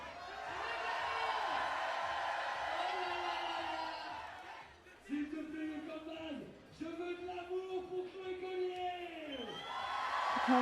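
Crowd roaring and cheering at a climbing competition final on a steep overhang, a loud sustained din with shouts and whoops rising and falling, commentators' voices mixed in.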